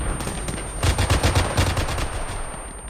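Rapid bursts of automatic gunfire in ARMA 3 aimed at a helicopter pilot during an airbase defense, dense and loud, with overlapping shots swelling in the middle of the burst.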